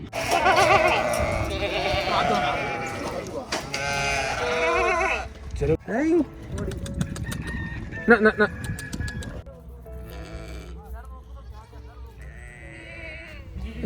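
Goats bleat repeatedly in wavering cries, several animals close by on a goat farm beside fields in Al Hariq, Riyadh, Saudi Arabia, with people talking over and between the calls.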